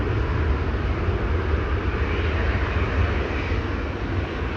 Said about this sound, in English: That should be this Dreamliner right here.